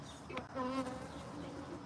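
Honeybees buzzing around an open hive during a honey harvest, a steady close hum with a louder pass of a single bee near the middle.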